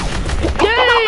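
A sniper rifle in a video game cracks once in a brief, sharp, loud blast, and a voice immediately follows.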